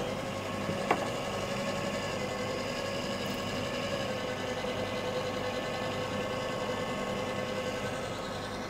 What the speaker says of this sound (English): Turn the dust extractor on.